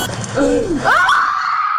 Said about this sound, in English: Sorry, they're all screaming.